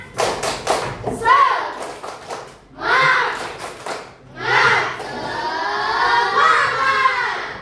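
Schoolchildren in a classroom chant and clap a rhythmic spirit clap, with bursts of sharp claps and voices near and loud between short pauses.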